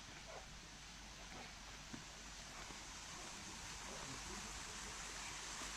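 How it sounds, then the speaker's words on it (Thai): A waterfall flows past the old Wat Pha Lat temple near Chiang Mai as a faint, steady rush of water that holds an even level throughout with no other sounds. "ซึ่งวัดผาลาดนะครับ ผมก็จะมีน้ำตกไหลผ่านด้วยนะครับ"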